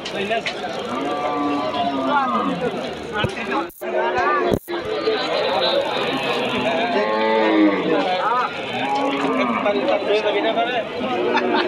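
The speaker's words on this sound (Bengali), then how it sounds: "8 দাঁতের গরু" Cows moo repeatedly at the Kaitla cattle market, their long bellowing calls rising over a steady hubbub of crowd chatter and nearby talking.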